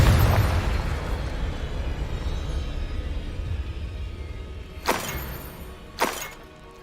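Confringo spell blasts in the game Hogwarts Legacy: a loud opening explosion that rumbles away, then two sharp, crackling bursts in quick succession near the end.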